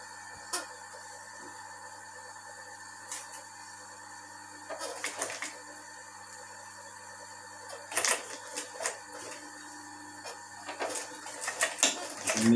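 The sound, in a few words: sewing an upholstery armrest cover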